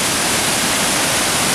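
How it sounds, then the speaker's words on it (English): Panther Creek Waterfall pours in a loud, unbroken hiss of falling water, a dense, even roar filling the whole short stretch with no other sounds. "I think this is probably the prettiest waterfall I've ever seen"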